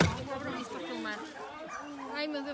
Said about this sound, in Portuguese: Isto aqui é de cães, estão acorrentados.